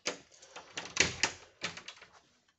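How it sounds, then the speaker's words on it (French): A door being shut in a home, a short series of rattling knocks and clacks building to a couple of sharper bangs, fairly close and moderately loud, with no speech. "je vais fermer la porte"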